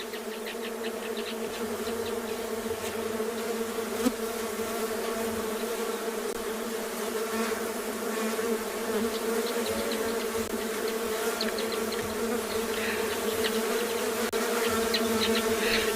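Dense buzzing of a bee colony swarming outdoors in the Kalahari at sunset, a constant layered drone of many wings close by with individual bees passing nearer, steady throughout.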